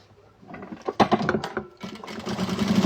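A sewing machine stitches lining onto the front panel of a handbag, starting with a few slow uneven stitch bursts, then running in a fast steady close mechanical rattle.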